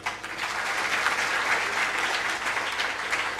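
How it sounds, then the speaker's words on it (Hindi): An audience at a Hindi religious discourse claps steadily, a dense, continuous wash of applause from a large crowd that holds at an even level from start to finish, with no talking over it. "ये बात पक्की कर लो तो ताली बजा दो।"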